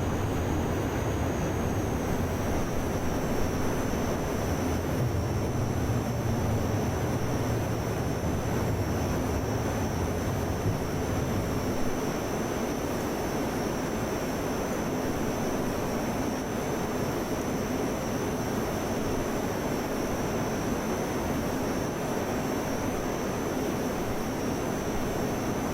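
A Cold War jet climbs after takeoff in the Prepar3D flight simulator, a steady loud engine roar with a thin high whine holding throughout.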